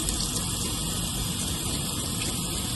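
Water runs steadily from a tap over milkfish being scaled at a wet-market stall, a constant loud gushing wash with no pauses and no talking.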